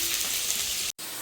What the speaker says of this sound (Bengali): আলুটা দিয়ে দিলাম, আলুটা আগে ভেজে নেব ভালো করে।